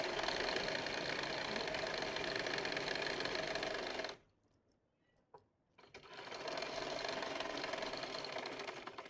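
A sewing machine stitches a seam on a pair of pants with a steady rapid whir, stops for about two seconds with a faint click, then runs on at the same pace.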